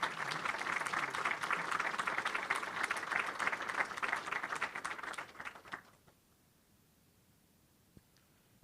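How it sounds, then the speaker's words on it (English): An audience applauds as panelists take the stage at a celebration event, with sustained, dense clapping from a room full of people that fades out after about six seconds into near silence. "Please, let's give them a warm round of applause as they join us."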